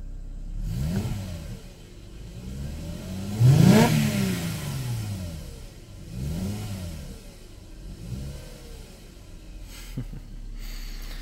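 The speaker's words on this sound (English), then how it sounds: "let's do a rev." A 2010 Mercedes C300 4Matic Sport engine revs sharply once, rising to a loud peak and falling back, followed by a few softer revs and steady idling.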